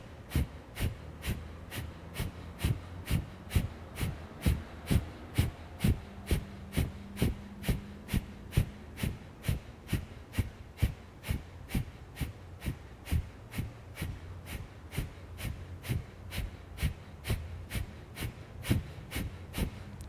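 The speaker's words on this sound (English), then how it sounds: "Begin breath of fire." Kundalini yoga breath of fire, rapid rhythmic forced exhalations through the nose, about two sharp puffs per second, held steadily and up close with no talk.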